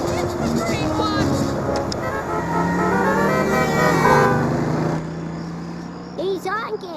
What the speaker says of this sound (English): He's honking. It's part of the plan.